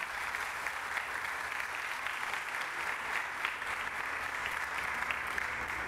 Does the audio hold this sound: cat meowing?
no